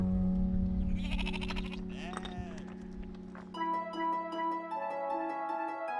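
North Ronaldsay sheep kept on the shore bleat in several wavering calls, near and fairly loud, partly over a man's speech, followed by a sustained musical tone.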